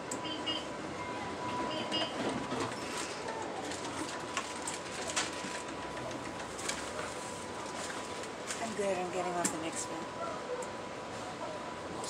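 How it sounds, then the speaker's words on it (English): A Rail Runner commuter train pulls away from a station with a steady low rumble throughout, pigeons cooing nearby and people talking in the background. "Doors are closing, train departing."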